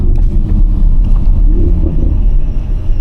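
A deep, loud engine and titanium exhaust rumble from a 2017 Audi RS6 (C7) fills the clip, steady and throaty with some wind buffeting, heard close up from inside the car.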